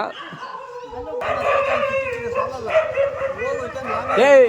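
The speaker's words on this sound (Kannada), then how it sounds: "ಅವ್ಯಾವ ನಾಯಿಗಳು ಬೆಳೋ ಅಂತ ನೋಡ" Dogs bark repeatedly in short, rhythmic bursts, fairly close, with yelping tones and a rising howl near the end.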